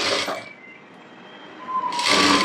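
Sewing machine stitching a blouse seam at half an inch, a brief whirring run that pauses and then resumes, close and fairly loud with no talk.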